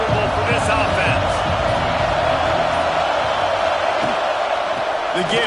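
Football stadium crowd at an LSU versus Auburn game, a loud sustained roar with low rhythmic thumping, steady throughout with speech-like voices blended in.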